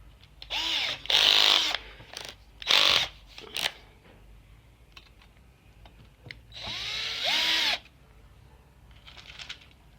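A power drill drives screws into a car's rear side speaker panel in short, close whirring bursts, several quick pulses then a longer run, separated by quiet gaps.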